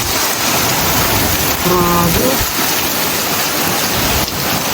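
Heavy rain pours in a constant loud roar during a strong storm in Canada, while a voice exclaims briefly in the middle.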